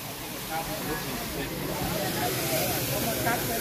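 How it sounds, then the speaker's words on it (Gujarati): Tempering sizzling in a large pot of rice as it is stirred at a housewarming puja feast, a continuous loud hissing spray of steam with people talking over it. "ભાતનો વઘાર કરવામાં આવી રહ્યો છે"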